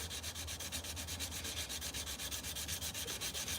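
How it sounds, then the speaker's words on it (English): A knife blade is rubbed clean with sharpening stones and sandpaper at a forge, a rapid, regular back-and-forth scraping heard up close with no talk. "Start with the stones, go to sandpaper."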